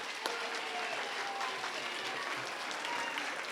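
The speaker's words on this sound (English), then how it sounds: "Let's give him a round of applause." An elementary school crowd applauds a student nominated for a character trait award, with dense, continuous clapping from many hands filling the room at a steady level.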